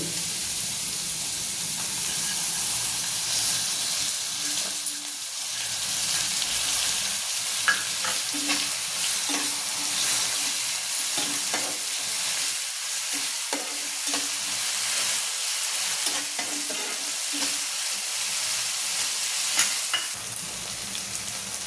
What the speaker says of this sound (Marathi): त्याच्यात आपण ही भिजवलेली डाळ टाकून देऊ